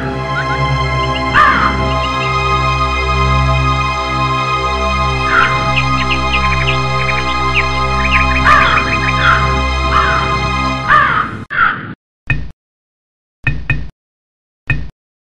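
A crow caws repeatedly in a cartoon fable about a thirsty crow, harsh calls recurring over a steady musical background that cuts out near the end, leaving a few isolated caws.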